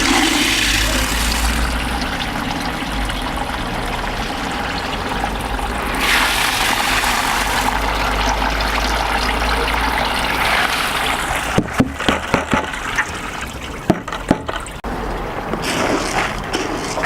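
Cooked hemp is drained of its cooking liquid, a steady rushing pour of water that runs continuously, with a few sharp clunks near the end.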